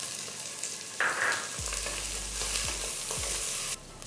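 Finely chopped onions, four of them, hit a hot pan for a lunch dish and sizzle steadily, with a few scraping stirs of a spoon against the pan partway through.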